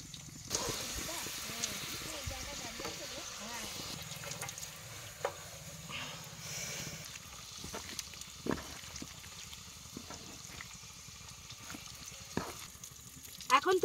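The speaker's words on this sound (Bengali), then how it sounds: "ভাজা হচ্ছে ডালপুরি।" Dalpuri deep-frying in hot oil outdoors at a car campsite, a steady soft sizzle running throughout with occasional sharp clinks and taps of utensils, while people talk intermittently over it.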